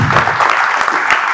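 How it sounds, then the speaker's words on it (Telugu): An audience at a Hindu gathering in Anantapur claps steadily for a brief moment, a dense, close burst of applause with no voices over it. "కొట్టండి చప్పట్లు"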